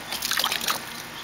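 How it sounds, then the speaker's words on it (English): Water splashes and trickles in a backyard baby pool as a child tosses it from a cup, a short close spatter lasting under a second, then settling into quiet. "Kiki, can you throw more water at the kitty?"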